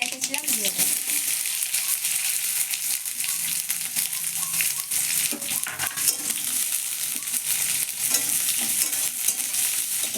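Chopped onions and mustard seeds with dried red chillies fry steadily in hot oil, a continuous close sizzle with stirring scrapes and faint clatter running throughout.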